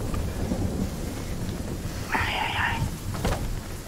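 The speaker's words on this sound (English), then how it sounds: "Jeez, that storm is traveling." Thunder rumbling and rain pouring during a storm in a video game, a continuous dense roar with a brief higher electronic tone in the middle and faint voices underneath.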